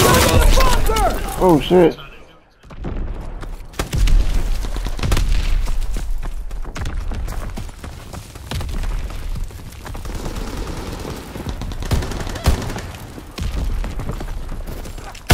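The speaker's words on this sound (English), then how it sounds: "Throwing grenade!" Grenade blast and battlefield gunfire in the World War II shooter Call of Duty WWII, a sharp boom after a brief shout, followed by a loud ongoing clatter of shots and impacts.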